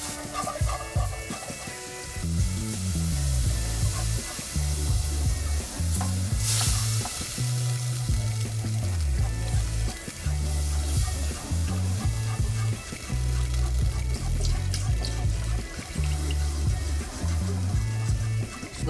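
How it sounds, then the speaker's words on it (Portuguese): A wire whisk scrapes steadily around a pan as a little milk is worked into a thick paste, a continuous stirring rasp with a faint sizzle beneath, all over a steady low tonal background. "Agora vamos entrar com um pouquinho do leite e continuar mexendo com o fouet"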